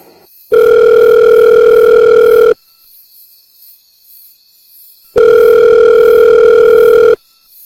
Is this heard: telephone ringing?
yes